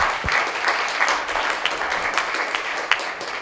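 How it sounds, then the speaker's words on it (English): An audience at a VR/AR authoring tools panel gives another round of applause, a steady wash of many hands clapping at moderate loudness with a few sharper claps standing out. "So come on out and please, another round of applause."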